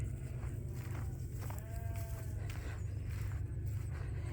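A sheep bleats once, faintly and at a distance, in an outdoor barnyard with a Shetland among the flock, over constant low wind rumble and ambient noise.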